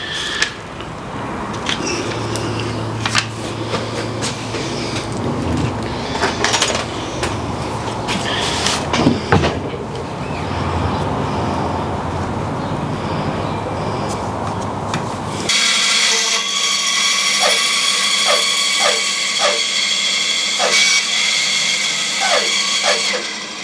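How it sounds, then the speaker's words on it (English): A bandsaw cuts a circular base out of a wooden offcut. The loud, rough, grinding noise holds steady at first, then shifts abruptly to a thinner rasp broken by regular sharp ticks. "cut it out on the bandsaw"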